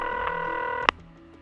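A telephone tone sounds steadily for about a second, with a brief pulse early on, then cuts off with an abrupt click as a call is placed.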